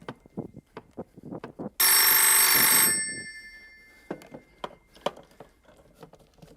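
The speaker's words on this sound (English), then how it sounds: "It's my other cell phone. It's my BlackBerry." A BlackBerry cell phone rings with a loud electronic ringtone that bursts in for about a second and then fades, surrounded by faint scattered clicks and light room noise.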